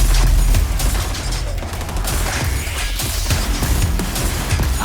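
Saw launcher firing in the video game XDefiant amid a dense, continuous barrage of loud gunfire and impacts, with heavy low-end booms running throughout.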